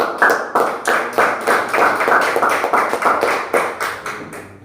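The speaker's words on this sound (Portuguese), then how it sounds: "as palmas para Jesus" Rhythmic hand clapping in a church service, an evangelical congregation applauding in praise, steady and fairly loud claps repeating throughout with no talk.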